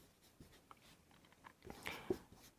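A maths solution is written out by hand, with soft, close scratching pen strokes in short irregular bursts and no talking.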